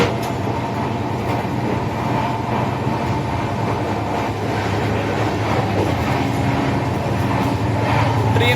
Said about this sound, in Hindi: ट्रेन अभी अपने मैक्सिमम 110 पे भाग रही है।